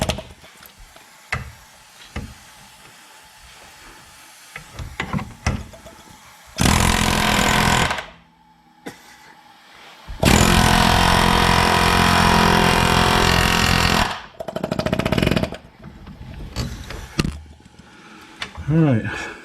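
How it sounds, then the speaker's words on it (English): Two long, loud bursts of a pneumatic air hammer with an adapter, rattling hard to push out a loose wheel hub on a 2016 Rogue, separated by a pause, with scattered clanks and handling noise around them. "I'm going to take my air hammer with that special adapter I just showed you."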